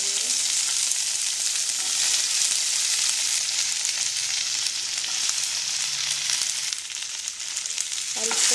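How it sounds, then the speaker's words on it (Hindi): Chopped okra and green chilies sizzle steadily in a hot pan, a dense continuous frying hiss that stays loud and close throughout with no talking. "हम उसमें जो हमारी भिंडी कटी हुई है वो डाल देंगे।"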